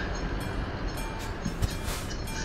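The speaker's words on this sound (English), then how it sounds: "There seems to be so many trains. They're coming every few seconds." Trains rumble steadily past a level crossing in Euro Truck Simulator 2, a continuous low rolling roar with faint rail clatter, heard from a truck waiting at the crossing.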